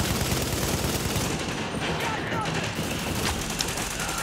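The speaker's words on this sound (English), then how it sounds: "I'm getting shot at." Dense gunfire in the video game The Division, continuous rapid rattling shots and bursts at moderate loudness forming an unbroken wash of combat noise.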